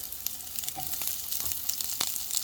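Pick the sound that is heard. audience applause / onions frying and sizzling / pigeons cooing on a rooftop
onions frying and sizzling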